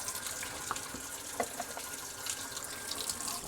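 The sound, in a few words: tap water running while washing a dish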